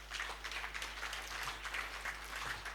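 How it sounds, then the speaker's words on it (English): Applause from an audience at an engineering body's presidential investiture ceremony, a steady dense wash of many hands clapping that holds evenly for several seconds at moderate level, with a low constant hum beneath. "That needs a round of applause, please."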